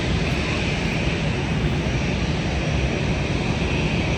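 An airliner takes off from the runway at Manchester Airport, a loud, steady jet engine roar filling the air without letup, heard from nearby with no talk.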